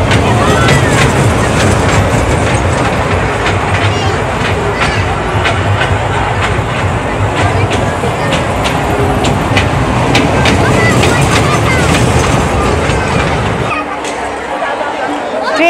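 A children's toy train ride running at a village-style fair in Dhaka, giving a steady rattling clatter under loud crowd noise and people talking.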